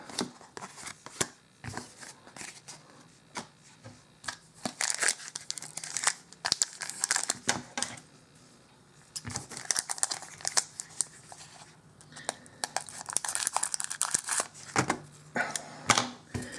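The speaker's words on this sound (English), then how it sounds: "Usually I don't need the scissors, but I really don't want to waste time opening these packs" Foil booster packs of Magic: The Gathering cards crinkle and tear in repeated bursts, close up, with brief quiet gaps between rustling handling sounds.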